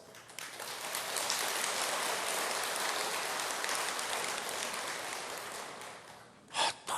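A seated audience at a Buddhist monk's dharma talk claps in a steady, even wash of applause for about six seconds before it fades, followed by a brief burst of sound near the end.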